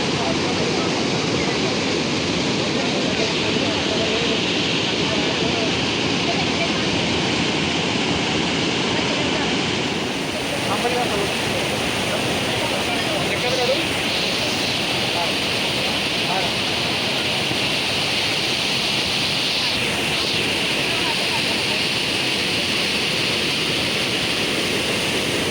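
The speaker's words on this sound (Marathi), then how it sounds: "तर मित्रांनो ह्यो आमच्या नापण्याचो धबधबो" Waterfall at Napne near a glass bridge, its constant dense rushing roar continuing unbroken and fairly loud throughout.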